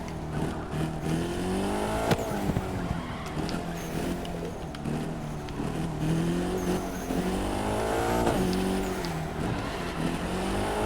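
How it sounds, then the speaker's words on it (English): In The Crew 2, a car slides and skids, its engine note swooping up and down with bursts of tire squeal, a steady close racing drone with no voices. "See, the car is sliding too much"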